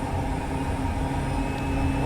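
A steady, loud engine drone from an aircraft sitting on the short runway 03 at Nottingham in Microsoft Flight Simulator, holding an even pitch throughout.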